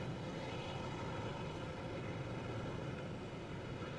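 Aircraft engines running at an air show, a steady broad roar that holds at an even level for several seconds, distant and fairly quiet with no voices over it.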